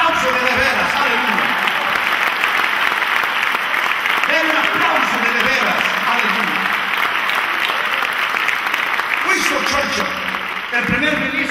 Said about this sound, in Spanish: Den un aplauso de veras, aleluya.